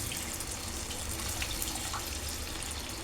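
Water pours steadily into a pan of capsicum curry gravy while it cooks, a continuous splashing trickle close by with no talking.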